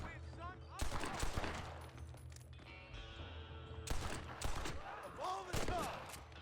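Pistol gunfire in the video game Red Dead, a few sharp shots and short bursts cracking out over a continuous game soundtrack and background noise, moderately loud.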